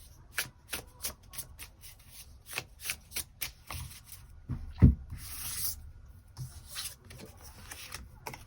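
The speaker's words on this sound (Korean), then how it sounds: "추가 카드 뽑아보도록 하겠습니다" Tarot cards are shuffled and drawn by hand in a quiet room, a run of soft rapid riffling flicks and rubs repeating in bursts, with one louder slap near the middle.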